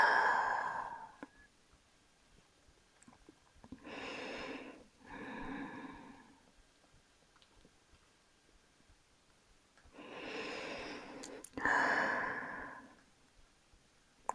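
Slow, deep breaths during a beginner yoga session: breathy inhales and exhales in gentle pairs, close and soft, separated by quiet pauses.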